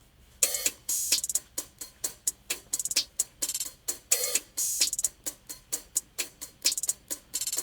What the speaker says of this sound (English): So all the hi-hats together sound like this.